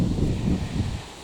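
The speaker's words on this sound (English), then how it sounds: "it really is annoyingly windy" Gusty wind blows through an outdoor kitchen garden, buffeting the microphone with low rumbling bursts and rustling that ease off near the end.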